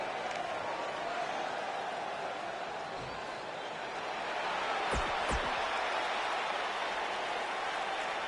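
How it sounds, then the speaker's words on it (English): Steady arena crowd murmur from the WWE 2K19 wrestling game at a SummerSlam event, a broad continuous buzz with a couple of brief sharp thumps near the middle. "The crowd is buzzing."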